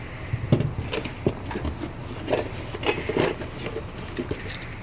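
Metal keys for a washroom maintenance area jingle and clink in scattered small bursts, quiet and close, with some handling knocks between them.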